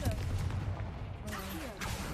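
The Confringo fire spell in Hogwarts Legacy goes off with a burst of crackling blast noise over a rumbling low game soundscape. A short flare of bright noise follows, and then the sound settles.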